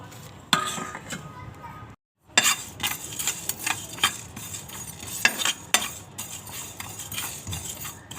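Coriander, cumin, fennel, cloves and black pepper dry-roast in a pan for matar kachori, with steady stirring scrapes and sharp clinks of a spoon against metal that pause briefly near the start before resuming.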